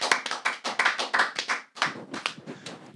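Applause rings out close by in a run of sharp, rhythmic clapping bursts, dropping out briefly midway before resuming just as strongly.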